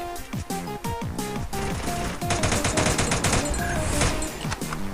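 Dense gunfire from Free Fire rattles steadily through the whole stretch, with rapid repeated shots layered over game music and effects, loud and continuous.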